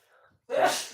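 A single sharp, close sneeze bursts out after a faint breathy intake, loud and abrupt.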